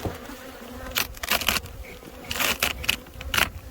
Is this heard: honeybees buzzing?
yes